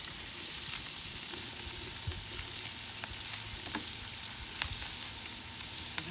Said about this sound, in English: Throw these onions on here.